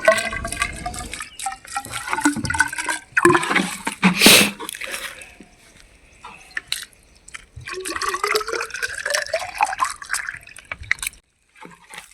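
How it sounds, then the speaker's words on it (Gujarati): Water splashes and trickles onto soil around a Kesar mango sapling in a few pours, with wet dripping and sloshing sounds close by, separated by quiet pauses. "કલમની ફરતે પણ થોડું પાણી સિંચી દઈએ છીએ"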